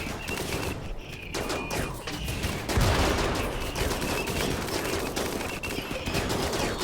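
Allied soldiers shooting guns in RimWorld, rapid overlapping bursts of gunfire crackling steadily throughout at moderate loudness.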